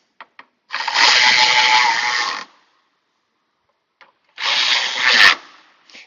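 Power tool driving and tightening bolts during a Dodge 1500 radiator replacement: two close, loud whirring bursts of about two seconds and one second, separated by a quiet pause with small clicks.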